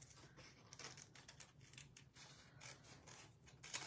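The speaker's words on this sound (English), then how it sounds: "what I'm going to do is cut this right here" Scissors cut material for a hat box makeover with faint, close snipping and rustling in uneven bursts, quiet and continuous, with no voices.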